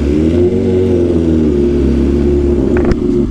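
BMW S1000RR sport motorcycle engine revving while riding at night, a loud steady high-pitched drone close to the rider, climbing slightly with a short sharp crackle near the end.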